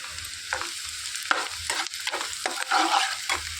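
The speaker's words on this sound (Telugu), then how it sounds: "ఇందులోనికి దంచి పెట్టుకున్న వెల్లిపాయ కారాన్ని వేసేసుకోవాలి." Crushed garlic and chili powder fry in hot oil for a Telugu ivy gourd stir-fry, giving a steady close sizzle broken by scraping stirring strokes, with no talking.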